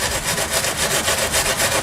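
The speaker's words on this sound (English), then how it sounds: "use a little steel brush and get down in your cracks" A small steel wire brush scrubs over a cracked plastic car bumper being prepared for priming, giving a steady, close, continuous rasping scrub with rhythmic back-and-forth pulses and no talk.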